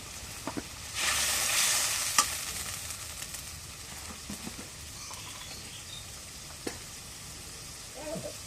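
A paste of cumin, garlic and onion drops into hot oil with a brief burst of sizzling, followed by quieter frying and occasional scraping taps as it is stirred.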